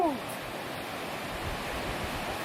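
Ocean surf breaks on a sandbar off a beach at Port St. Joe, a continuous wash of crashing waves heard at a distance, mixed with wind noise on the microphone.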